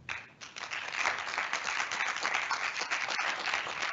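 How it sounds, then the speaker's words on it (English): Applause during a virtual tech accessibility event, a steady dense wash of many hands clapping that swells quickly and holds at an even level throughout. "let's give a big round of applause for all the speakers and all the team"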